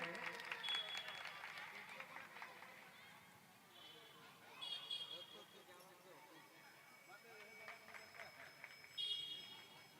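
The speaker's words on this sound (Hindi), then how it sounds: "जोरदार तालियों से स्वागत करें।" An audience claps to welcome guests at a three-day Ramkatha recitation gathering, moderate applause swelling and fading in waves with some crowd noise.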